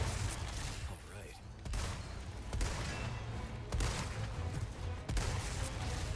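Gunfire in the Resident Evil 4 Remake video game comes in several sharp bursts over a dense, noisy game soundscape, fairly faint overall, with speech-like sounds mixed into the game audio.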